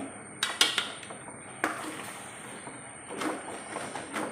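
A spoon clinks and scrapes against a pot while stirring cooked dried tapioca and beans, a few sharp knocks early, then quieter mixing sounds.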